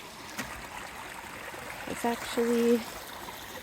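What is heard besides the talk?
water flowing in a small stream on a property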